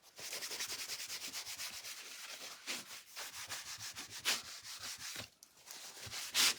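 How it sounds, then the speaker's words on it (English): Close, repeated rubbing strokes of a cloth wiping excess wax off a stencil on a craft surface, scratchy and uneven with brief pauses between passes and no voices. "let me wipe off some more of that wax because it's not even sticking to my stencil at all."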